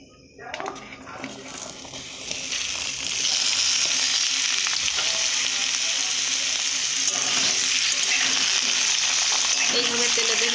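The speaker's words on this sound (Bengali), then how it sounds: "এইভাবে তেলেতে ভেজে নেব।" Beetroot pieces frying in hot oil, a dense, loud hiss of sizzling that swells after a couple of seconds and stays constant, with occasional stirring noises close by.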